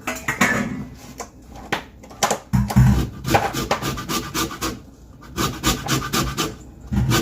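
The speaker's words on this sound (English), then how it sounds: "A lemon that has some green in it. And I'm going to zest it." A lemon with some green in its skin is zested, giving close, rhythmic scraping and rasping strokes in uneven bursts with short pauses between them.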